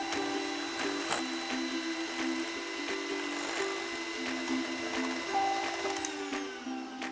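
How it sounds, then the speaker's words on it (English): An electric mixer runs steadily on medium speed, blending a ricotta and feta dip with a constant whirring hum at moderate distance; no speech. "we'll mix it all together on medium speed until all the ingredients are evenly incorporated"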